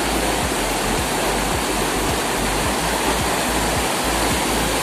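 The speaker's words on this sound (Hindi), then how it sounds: "तो दोस्तों आप देख सकते हैं कितना तेज पानी हो चुका है नदियों में।" Swollen village river rushing fast after days of continuous rain, a loud, steady roar of churning floodwater with no pauses and no voices.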